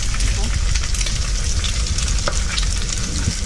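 An egg fries in hot oil for pad thai, giving a loud, steady, close sizzle with stirring scrapes throughout.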